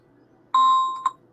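A phone alarm sounds a single clear electronic tone held for about half a second, followed by a short second blip, fairly close and alone against a quiet background.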